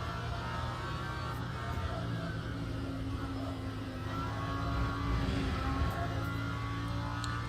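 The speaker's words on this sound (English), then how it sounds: "Listening to that howling Lambo." A Lamborghini GT3 race car's engine drones steadily at full load, a broad continuous roar with sustained low tones that swells slightly near the end, with no talking over it.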